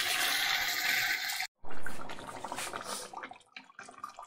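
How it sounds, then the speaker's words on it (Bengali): Hot water pours into a pot of mutton and potato curry, a loud continuous splashing gush that breaks off briefly, then resumes with bubbling and trickling. "এবার গরম জল দিয়ে দেবো মাংস।"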